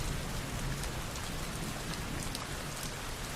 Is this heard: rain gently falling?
yes